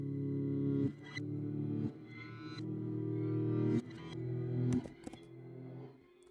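Grainy guitar run through a delay that pitch-shifts its repeats upward, swelling chords that cut off and restart in a wash of smeared, distorted echoes, moderately quiet and heard alone.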